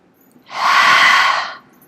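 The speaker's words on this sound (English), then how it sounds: "Inhale and exhale." A single long, steady exhale during a core-strengthening hip-circle exercise, close and fairly loud, a broad airy rush lasting about a second before trailing off into quiet.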